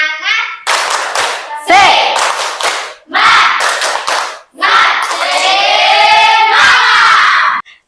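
A classroom of young children and their teacher clap in quick rhythmic bursts for a spirit cheer, loud and close, with children shouting and chanting along between the clapping patterns.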